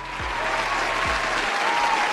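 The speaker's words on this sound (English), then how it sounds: "Round of applause" A short burst of audience applause rises as a continuous clatter of many hands, with a couple of low thumps underneath and no speech.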